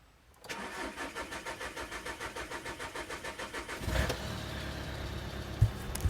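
Turn-key start of a 2011 VW Caddy 1.6 common-rail diesel with a cylinder 3 misfire fault: a long run of rhythmic cranking pulses, then the engine catches and settles into a steady idle.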